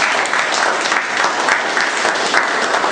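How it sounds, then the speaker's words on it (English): Loud, dense clapping from an audience at a Toastmasters meeting, continuous and even throughout the short span with no voices over it. "Ladies and gentlemen, a big round of applause to the man."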